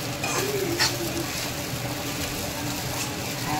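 A sabudana khichdi mixture with crushed peanuts is stirred in a pan, giving a soft, steady scraping and sizzling texture close by, with faint bird coos in the background.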